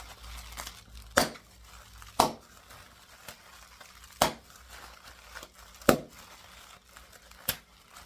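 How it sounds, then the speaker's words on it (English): Several sharp, isolated pops at irregular intervals, about six in all, with faint crinkling of plastic between them and no talking. "Yep, that was a good pop. I like bubble wrap."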